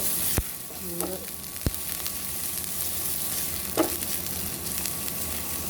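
Soya chunks frying in a pan while being stirred, a steady close sizzle broken by a few sharp clicks of the spoon against the pan.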